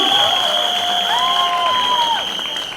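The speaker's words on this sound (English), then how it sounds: "I think huge round of applause for these guys" Crowd applause and cheering from a packed college auditorium, greeting guests at a campus event; dense, steady clapping with shouts above it and a sustained tone running through, fading slightly toward the end.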